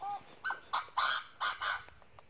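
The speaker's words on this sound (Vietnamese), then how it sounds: "con chim gáy ngay chỗ đó luôn nè" A francolin (đa đa) calls outdoors, several loud, harsh, rhythmic notes in quick succession, close to the recorder, with no talk.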